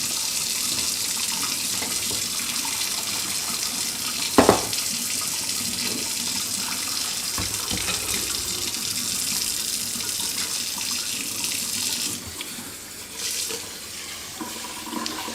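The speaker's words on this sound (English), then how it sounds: "I'm turning on cold water in my sink so that the hot water," Cold water runs steadily from a kitchen sink tap, a constant broadband rush with a brief knock partway through and a slight drop in flow near the end, with no talking.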